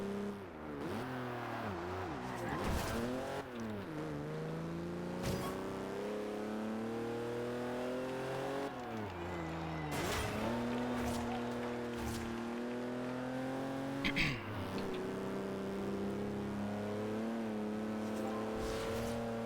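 A race car in Forza Horizon 2 revs and accelerates through repeated gear shifts, its engine tone climbing and dropping steadily with occasional tyre squeals, loud and continuous.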